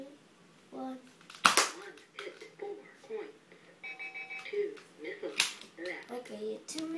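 Toy foam-dart blaster shots during target practice, two sharp loud pops about four seconds apart, with someone talking excitedly throughout and a brief beeping tone in between.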